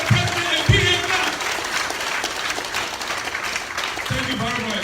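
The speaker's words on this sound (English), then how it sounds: "Let's give the president a big hand clap." A town hall crowd in Liberia claps for the president, a steady wash of applause throughout, with loud voices speaking over it near the start and end.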